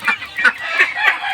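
Close chicken clucking in a Sundanese village, four or five quick nasal clucks in an uneven rhythm, fairly loud and clear.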